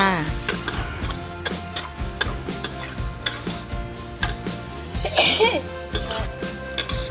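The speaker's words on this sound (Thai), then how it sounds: "ผัดคลุกเคล้าให้เข้ากันค่ะ" Thai round eggplant is stir-fried into a chicken red curry in a pan, with repeated close spatula scrapes and clacks in an uneven rhythm over a soft, constant sizzle.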